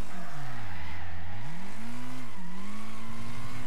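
Race car engine revving and changing pitch through gear shifts with tire squeal as it corners during a fast time-attack lap at Pinehills Raceway in Wreckfest, loud and continuous with no talking.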